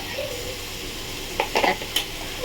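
Garlic drops into golden-brown onions frying for chicken kosha, a soft steady sizzle with a few brief stirring clinks and scrapes.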